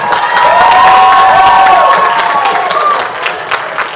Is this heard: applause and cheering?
yes